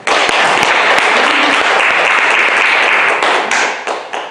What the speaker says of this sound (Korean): 박수 칩시다, 박수.